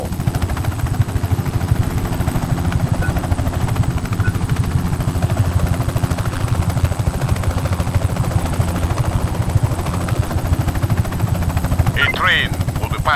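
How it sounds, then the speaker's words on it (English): A helicopter in the video game Just Cause 3 gives a steady, rapid rotor thump that runs throughout, with game sounds and voices talking over it near the end. "Can you fly the helicopter?"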